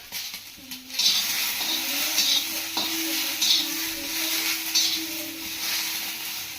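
Chutney ingredients roasting in a generous amount of oil in a pan, giving a steady soft sizzle and hiss with occasional stirring scrapes throughout.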